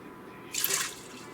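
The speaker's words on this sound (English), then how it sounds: "Then I'm gonna add 1 1/4 cup of water." Water is poured briefly into an Instant Pot with beans for salsa chili, a short, faint splash lasting under half a second in an otherwise quiet kitchen.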